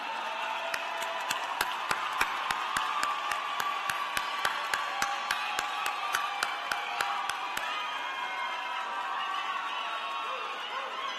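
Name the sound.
audience applause for graduates at NCCU commencement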